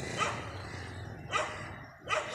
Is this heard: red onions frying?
no